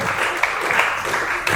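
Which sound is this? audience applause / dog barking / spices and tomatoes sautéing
audience applause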